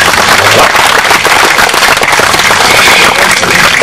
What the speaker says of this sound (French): les spectateurs applaudissent parce qu'ils savent que ce n'est pas facile du tout